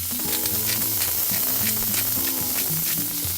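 A smash burger patty sizzles on a hot griddle, a steady, close, continuous crackle of frying fat that holds at an even level throughout.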